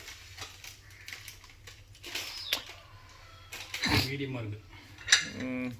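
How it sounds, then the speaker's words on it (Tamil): A metal pressure cooker lid is fitted on a pot of tomato rice, giving scattered clinks and scraping metallic clatter that build to louder knocks near the end. Soft background noise and faint voice-like sounds run beneath. "எல்லாம் வந்து நம்ம குக்கர் மூடி போட்டுக்கலாம்"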